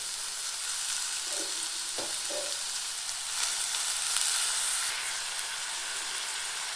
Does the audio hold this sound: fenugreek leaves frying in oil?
yes